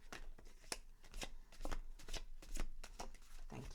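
A deck of tarot cards is shuffled up close in quick, repeated riffles and flutters, quiet and steady with no talking.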